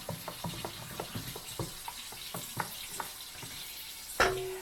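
Homemade bread dough is stirred in a bowl, giving a series of soft, rhythmic knocks and scrapes close by, followed by a sharper clink at the end, with no talking.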